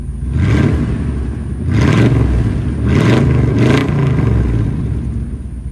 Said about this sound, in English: We've currently just got the little homemade ZL1 exhaust on here.